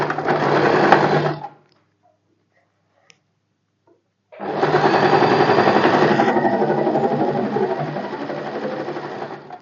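A sewing machine stitches a strip onto the right side of a blouse's main fabric, running steadily for over a second, pausing in silence, then whirring continuously again for about five seconds, close and loud.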